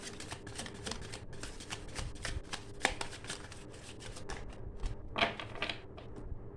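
A deck of tarot cards shuffled by hand in a steady run of crisp, riffling clicks and flutters, close and fairly quiet, with no talking.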